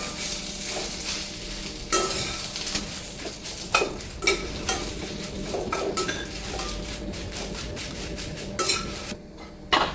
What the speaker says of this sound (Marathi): इथे मी तमालपत्र भाजून घेतले